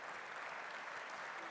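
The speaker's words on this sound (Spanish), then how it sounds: "Fuerte aplauso, por favor." Steady, dense applause from a conference audience at Expo PyME 2024 in Nuevo León, sustained throughout with no pauses.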